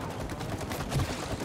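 Steady stream of shooting in the co-op game It Takes Two, in a level pitting bees against squirrels, continuous rattling blasts at even loudness, with no clear voices.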